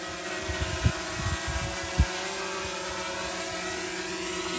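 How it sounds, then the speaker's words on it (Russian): Steady high-pitched whine of a small quadcopter drone hovering at a distance over a glamping site in Batumi, Georgia, with a few low thumps and rustles nearby. "Вот там квадрокоптер снимает."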